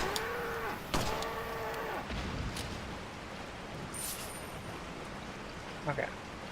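A cow lows a few times in Resident Evil 4, with a rising-and-falling call early on, then a second short call, over steady rain-like background noise.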